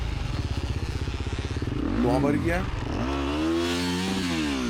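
A motocross bike in a cross-country race puts out a loud, near engine note that chugs at low revs and then climbs and wavers with throttle, while someone talks over it.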